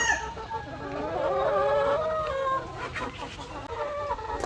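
Egg-laying farm chickens cluck close by in a run of busy, overlapping calls, with a steady backyard hum beneath them.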